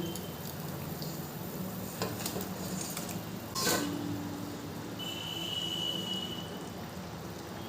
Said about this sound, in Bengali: এরপরে দিয়ে দেবো ভেজে রাখা মাছগুলোকে।